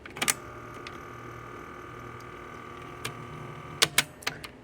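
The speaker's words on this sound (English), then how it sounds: "That motor is just spinning." A vintage cassette deck motor whirs faintly and steadily as its belt slips, broken by sharp mechanical clicks and clunks from the transport buttons near the start and again toward the end.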